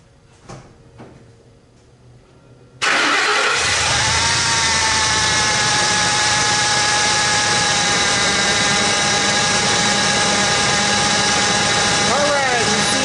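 A 2004 Ford F150 cranks and catches after a few quiet clicks, then idles loudly and steadily at close range with a constant droning hum for the rest of the stretch.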